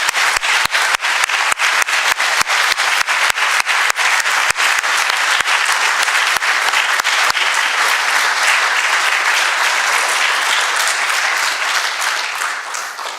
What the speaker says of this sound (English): I invite you now to give these folks a round of applause.